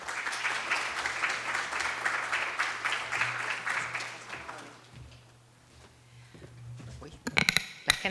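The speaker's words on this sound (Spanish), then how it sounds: "con un caluroso aplauso," Audience applause with dense clapping from a crowd welcoming a speaker at a talk, steady for about four seconds and then fading into quiet room noise, followed by a few brief bumps and handling sounds.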